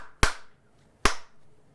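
Two sharp, loud hand claps about a second apart switch an original 1984 Clapper. Each clap is crisp and close, with a brief decay and quiet between them.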